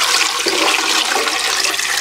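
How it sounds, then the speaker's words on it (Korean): Water pours steadily into a large cooking pot holding a whole duck for Korean duck baeksuk soup, a loud, continuous splashing rush that lasts for the full two seconds with no talk over it. "물을 더 부어줍니다."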